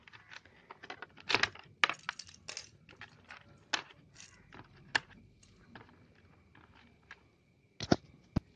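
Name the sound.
keys being pried off a dirty PC keyboard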